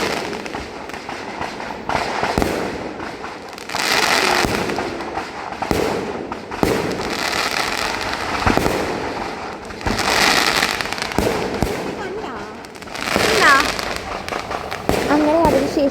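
Fireworks at a church festival go off in repeated cracking bursts and booming volleys, loud and fairly close, with crowd voices mixed in between blasts.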